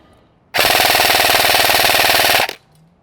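An EMG Colt M16A3 airsoft electric rifle fires full auto for about two seconds, a loud close rapid mechanical buzz of shots at a steady high rate that stops abruptly.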